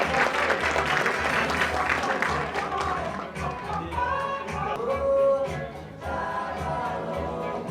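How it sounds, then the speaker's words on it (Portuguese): Audience clapping to welcome the next speaker at a condominium managers' conference in Brazil, a full, dense round of applause that gradually thins out while music starts playing underneath. "uma salva de palmas para receber o nosso próximo palestrante"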